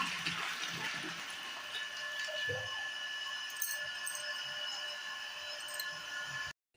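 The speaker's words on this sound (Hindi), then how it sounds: "तो यहाँ पर लगा दी मैंने मोटर, तो बिल्कुल गर्म गर्म पानी आता है" Hot water pumped by a small electric motor runs steadily into a bucket, a continuous hissing splash over a faint motor hum that cuts off abruptly at the end.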